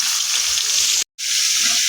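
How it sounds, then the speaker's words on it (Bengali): Carrots and mixed vegetables sizzle steadily in a hot pan, a loud continuous hiss with a brief cut partway through. "এবার আমরা সবজিগুলো ভেজে নেবো"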